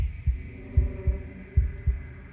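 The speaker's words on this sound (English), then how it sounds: "a wooden and fleshy heart beating with an unbroken rhythm" A wooden and fleshy heart from the Slay the Princess video game beats in a steady, unbroken rhythm: six low, soft thumps in paired lub-dub pattern over a faint hum, with no talk.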